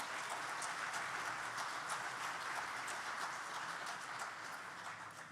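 A church congregation applauds in a sustained, dense patter of clapping that fills the room, holding steady for several seconds and then thinning slightly, with no speech over it.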